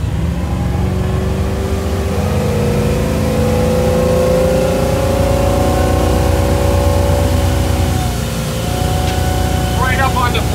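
Sea Ray 240 boat's engine runs loud and steady as the hull climbs onto the plane on the water, a continuous rising drone with wind and water noise throughout.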